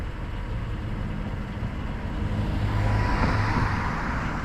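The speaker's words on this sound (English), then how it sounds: "oh, there comes a car" A car driving past on a quiet road in the Florida Keys, a steady low rumble of tyres and engine building toward the end of the pass, fairly close and heard alone without talk.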